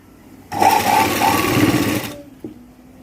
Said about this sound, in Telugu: ఈ విధంగా చూసుకొని స్టిచ్ అనేది వేసుకుంటూ రావాలి